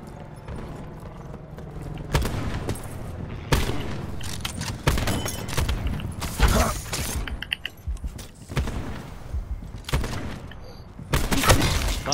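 Loud sniper rifle gunfire in Call of Duty: Black Ops 4 bursts in bursts and single cracks across a busy game soundscape, with sharp shots spaced irregularly between rumbling booms.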